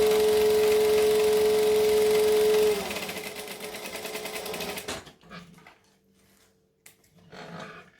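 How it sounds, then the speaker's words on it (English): A sewing machine runs close and loud, stitching forward and then back, with its motor pitch shifting as direction changes before it stops around five seconds, followed by quiet fabric handling and soft clicks. "So we're going to stitch forward and back."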